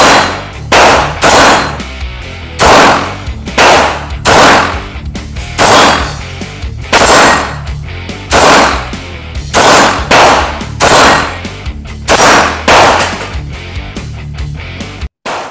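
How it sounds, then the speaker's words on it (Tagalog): A Springfield Armory XD-ME Elite pistol is test fired, about fourteen sharp, loud shots cracking nearby at a steady pace of roughly one per second, with no talk. "nakatapos na tayo mag-test fire at mag-unbox itong Springfield Armory na XDME Elite"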